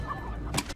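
Chicken clucking in a scene from the 2011 film Priest, a short burst of fowl sounds that ends in a sharper squawk, heard at moderate level.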